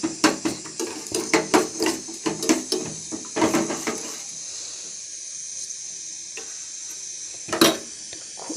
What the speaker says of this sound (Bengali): এবার ছেলের ডিমটা ভেজে নিই।